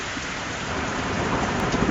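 A thunderstorm pours steady, fairly loud rain, with a dull rumble of thunder swelling toward the end. No voices are heard.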